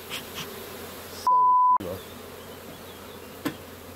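A swarm of honeybees buzzes around a hive outdoors, a steady dense drone that holds through the clip, briefly cut by a short electronic tone.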